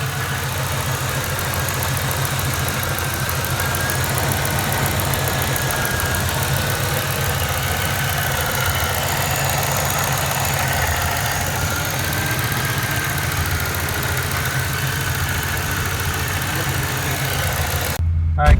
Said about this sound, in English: my car idles fine, but if I leave it idling by itself, then it dies